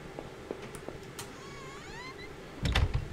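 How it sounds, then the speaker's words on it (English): A door swings open in the video game Home: a wavering, creaking squeal of hinges lasts about a second, then a low thump as it settles, heard close over a quiet background. "Door."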